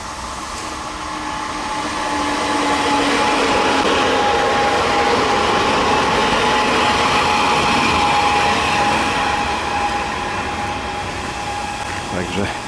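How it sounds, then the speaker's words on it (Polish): A train rumbles into a station platform at Bytom station, Poland, with a long steady roar and a faint squealing tone, loud and close, swelling and holding throughout. "No i wjeżdża pociąg."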